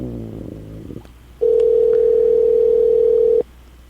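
A telephone line tone sounds while someone waits for the callee to pick up: after a brief low murmur, a single steady tone holds for about two seconds, loud and alone, then cuts off.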